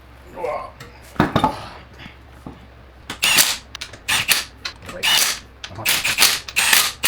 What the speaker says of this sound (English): Throw this damn wheel on.